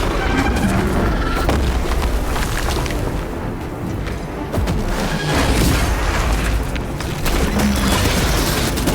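A melter bomb detonates in the video game Warhammer 40k Space Marine 2, giving loud, heavy booms that roll into a dense, continuous rumble of blasts and crashing debris lasting several seconds.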